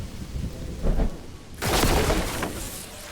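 Thunder rumbles through a rain shower in the magic-school management game Mind Over Magic, a soft roll followed by a louder, sustained crack and rumble over steady rain hiss, with no talking.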